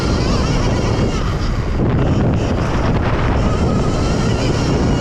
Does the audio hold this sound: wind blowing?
yes